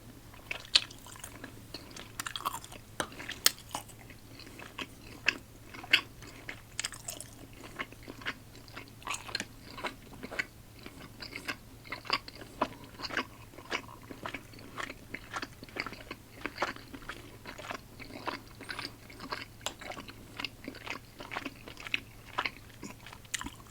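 Watermelon-flavored candy is chewed close to the mic in a quiet room. Soft, repeated bites and crunchy, wet chewing continue throughout with no talking.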